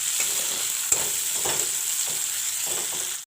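Sliced onion frying in mustard oil until golden brown, a continuous close sizzle broken by soft stirring scrapes, then cutting off abruptly at the end.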